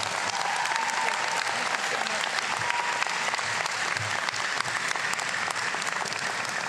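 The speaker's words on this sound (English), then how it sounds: "giving Dr. James a wonderful Roxbury round of applause" Sustained, dense applause from a large crowd at a Roxbury Community College commencement ceremony, steady and full for the whole stretch with no talk over it.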